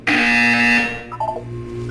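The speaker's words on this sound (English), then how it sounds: "You will hear a buzzer." A buzzer tone in the game Portal 2 sounds loud and steady for most of a second, then fades into softer tones over a low background hum.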